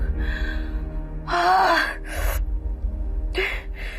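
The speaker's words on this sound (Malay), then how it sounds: "Ya Allah, tolong aku angkat nafas." A woman in pain gasps for breath, with a long, strained, wheezing intake of air followed by shorter ragged gasps, close and loud over a low background hum.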